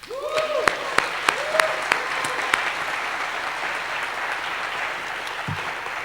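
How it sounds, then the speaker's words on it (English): Hackathon kickoff attendees applaud themselves, a steady crowd clapping wash with a few sharp nearby claps standing out early on, while a voice speaks briefly at the start. "Give yourselves a round of applause"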